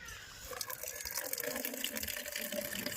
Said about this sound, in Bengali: আমি দিচ্ছি জল